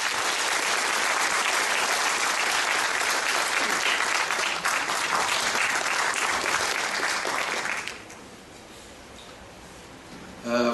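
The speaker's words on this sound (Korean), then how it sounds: "큰 박수로 맞이해 주십시오." A hall full of people applauds to welcome a university president taking the podium at a national professors' rally, loud dense clapping for about eight seconds before abruptly dropping to a quiet room, then a brief sound resumes at the end.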